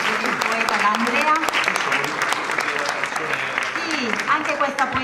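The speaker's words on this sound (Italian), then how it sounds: "un grande applauso anche per il poeta D'Andrea." An audience at a regional poetry award event in Basilicata, Italy, applauds a dialect poet, loud, dense clapping close by that runs the whole time, with cheers and voices mixed in.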